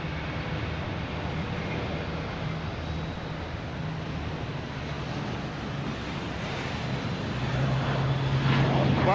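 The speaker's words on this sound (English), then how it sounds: "we got JetBlue here heading to Sacramento. An A320." JetBlue Airbus A320 airliner at Boston Logan Airport, a steady broad engine roar that holds throughout and swells slightly louder at the end, heard from a distance without talk.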